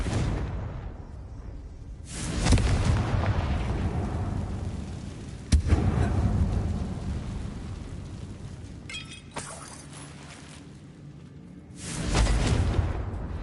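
Confringo spell blasts in Hogwarts Legacy: four loud bursts of fiery explosion with a crackling, shattering whoosh, arriving a few seconds apart, each decaying into a rumbling tail.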